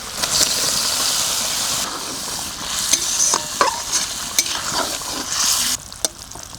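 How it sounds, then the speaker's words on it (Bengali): Fried eggs going into a simmering egg masala curry in a pan, with steady sizzling and bubbling broken by sharp clinks and scrapes of a spoon stirring, close and fairly loud. "এবার ভেজে রাখা ডিমগুলো দিয়ে দেবো।"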